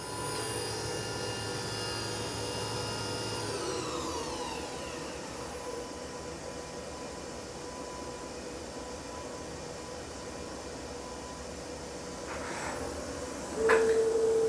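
A Hurco VM-20 CNC machining center, built 2010, runs its spindle at speed with a steady machine whine and hum that holds evenly, the tone shifting early on, then a brief louder clunk near the end.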